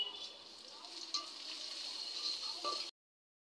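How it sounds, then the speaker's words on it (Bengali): Chopped onions and garlic with a little salt fry in a pan, a bright steady sizzle with a few small stirring ticks, fairly faint, cutting off abruptly near the end. "এখন সামান্য পরিমাণ লবণ দিয়ে পেঁয়াজগুলো ভেজে নেব।"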